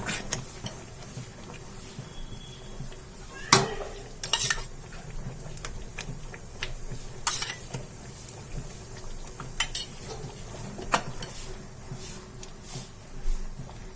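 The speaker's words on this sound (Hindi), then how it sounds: "मैं इसमें क्रीम डाल रही हूँ। इसे भी हम मिला देंगे।" A spoon stirs cream into malai kofta gravy in a metal pan, with repeated scraping clinks and soft liquid sounds at an uneven pace, close up and without talking.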